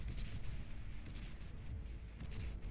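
Shell shocker units fire artillery in the strategy game Beyond All Reason, a faint, continuous rumble of distant overlapping blasts with a few soft thuds rising above the wash.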